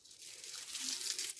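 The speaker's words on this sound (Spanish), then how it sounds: "Así, una bolsita, abrimos," A small plastic cooking bag for oven-roasting pork ribs is pulled open with a brief, close crinkling rustle of thin plastic, heard alone and lasting barely over a second.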